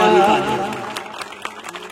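A church congregation claps briefly, a short burst of applause that fades quickly beneath a speaking voice, leaving scattered faint claps near the end.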